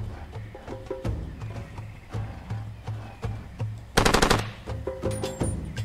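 Rapid automatic gunfire from the video game Far Cry 2 rattles in fast bursts, with a louder close burst about two-thirds through, over faint game ambience.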